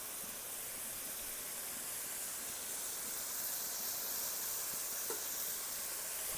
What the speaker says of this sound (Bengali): মশলা থেকে তেল ছাড়া পর্যন্ত ভালো করে কষিয়ে নেব